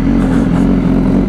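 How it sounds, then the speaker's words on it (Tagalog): A BMW S1000RR sport motorcycle engine roars loudly and close by, holding a steady high-revving drone with a throaty low rumble and no voices over it. "ano ang tunog ng BMW S1RR?"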